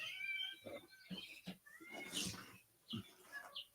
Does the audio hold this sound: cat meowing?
yes